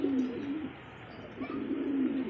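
A female black-check pigeon coos nearby in two low, rolling phrases separated by a short pause, with no talking.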